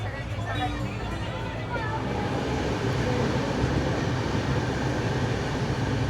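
The Amravati Express pulls away from Hubli Junction with a steady low rumble of wheels and carriage noise, while passenger chatter carries over the rolling sound inside the coach.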